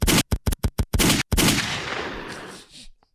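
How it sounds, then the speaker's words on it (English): A rapid burst of gunshot sound effects, five or six sharp cracks in quick succession, then a longer blast that trails off into a fading rumble. "Gunshots."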